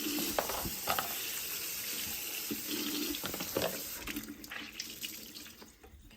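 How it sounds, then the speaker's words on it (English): Tap water runs steadily into a kitchen sink while plastic containers are rinsed and shaken off, with a few clunks and knocks of the containers against the basin, fading near the end. "I'm going to shake these off in the sink. I could wash them."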